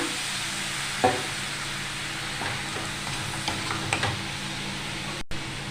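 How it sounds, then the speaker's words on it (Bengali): Jaggery softening in a hot pan with a little water for raw mango pickle, a steady sizzle and bubbling hiss throughout, with a few faint utensil taps. "আমি একটু জল দিয়ে দিচ্ছি গুড়ের মধ্যে"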